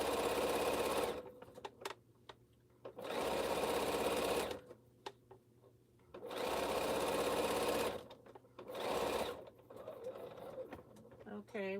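A sewing machine stitches a seam on a T-shirt quilt in close, loud bursts of rapid needle chatter, four runs separated by pauses, with a voice speaking in the gaps.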